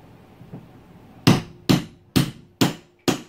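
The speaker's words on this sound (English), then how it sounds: "Make sure what you are hammering on top of is a strong support structure" A hole stamper is hammered through fabric on a chair used as a support, for DIY skate wings. One soft tap is followed by five loud, sharp, evenly spaced strikes, close up with no talking.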